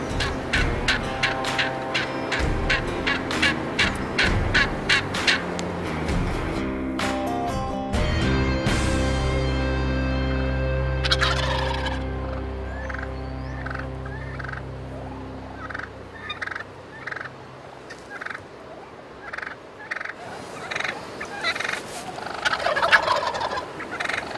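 Wild turkeys gobble again and again in a spring hunting setting, loud overlapping calls that come in rapid bursts, then sustained gobbling that fades into scattered distant calls.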